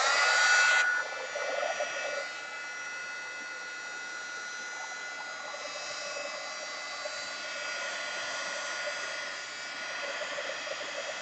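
Dryer blowing air to dry paint on an art journal page, a steady whirring hum that starts louder and closer for the first second, then settles into a fainter continuous drone.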